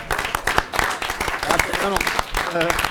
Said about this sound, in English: I'd like everyone to give Mr. Reynolds a round of applause